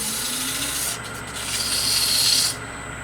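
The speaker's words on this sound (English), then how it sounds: "we're back to the sanding the concentric one now" Loud, continuous abrasive rubbing of sandpaper against a wooden candlestick spinning on a lathe, briefly easing off then swelling again before stopping near the end.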